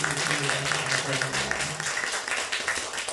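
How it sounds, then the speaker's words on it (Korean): Church congregation applause during a Korean Sunday service: a continuous, fairly loud burst of many hands clapping, with a voice briefly speaking under it. "우리 박수로 축하해"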